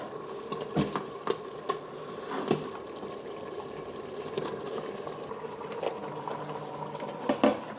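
Beef being added and stirred into a simmering rendang curry sauce in a pot on the stove, a soft bubbling simmer with scattered clunks and scraping stirs, close and fairly quiet, with no talking.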